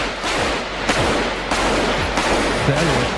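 Gunfire hits an armored car in a ballistic test: a series of loud, sharp reports in an irregular rhythm over steady noise, with no talking.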